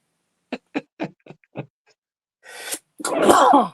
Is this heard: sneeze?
yes